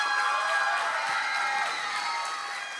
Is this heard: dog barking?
no